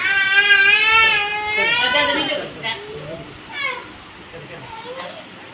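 A young child cries close by in a high, wavering wail that rises and falls, then breaks into shorter sobbing bursts.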